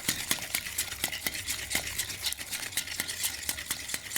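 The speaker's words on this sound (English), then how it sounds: "A bit of gentle whisking." Gentle whisking of pudding custard in a bowl for ginger jam bread and butter pudding, a steady run of soft, close clinks and scrapes with no talk.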